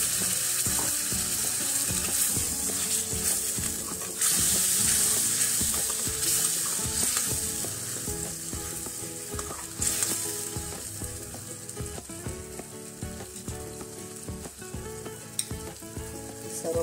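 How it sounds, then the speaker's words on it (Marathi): Sizzling and stirring as water is poured into a simmering spiced gravy in a pan, a loud continuous hiss with scraping spoon strokes and bursts of bubbling, no voices. "हे पाणी आता आपण या ग्रेव्हीमध्ये घालणार आहोत"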